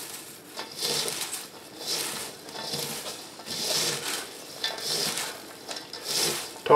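Shredded cabbage is tossed and mixed with salt by hand for sauerkraut, producing soft rustling, crunchy swishes in irregular bursts, close and without speech.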